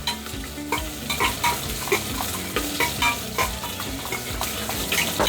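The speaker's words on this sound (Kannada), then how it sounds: "ಈರುಳ್ಳಿನ ಸ್ವಲ್ಪ ಬಾಡಿಸ್ಕೊಳ್ತೀನಿ." Onions fry in hot oil inside a cooker during mutton biryani preparation, giving a steady loud sizzle broken by regular scraping stirs of a utensil against the pot. There is no talk.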